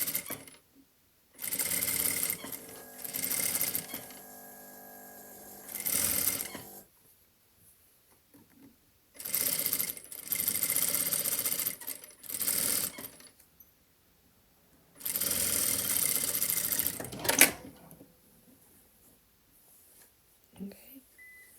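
Sewing machine stitching a trouser seam in bursts of a few seconds each, steady mechanical whirring broken by pauses, with quiet talking between runs.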